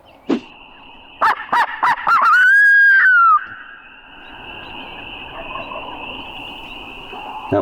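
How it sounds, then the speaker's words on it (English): A wild turkey gobbler gobbles once, loud and rising, from a roost at the edge of hilltop fields on public land in hunting season, after a few sharp calls, with a steady insect-like drone behind. "Got one to gobble."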